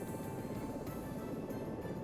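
A helicopter engine in the Search And Rescue 4 flight simulator gives a steady, faint, low rumbling drone with a constant whine, alone and unchanging for about two seconds.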